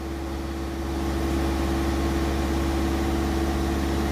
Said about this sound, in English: we've now got the vehicle running and we're just going to see if that new tank primes up